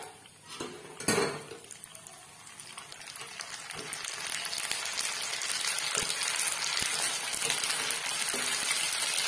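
Gupchup (pani puri) puris fry in hot oil, a dense continuous sizzle building and holding steady, broken by sharp clinks of a metal utensil against the pan.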